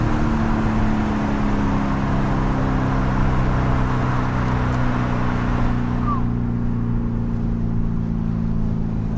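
A car engine drones loudly and steadily from inside the vehicle while driving fast, a sustained low hum with a constant roar of road noise throughout.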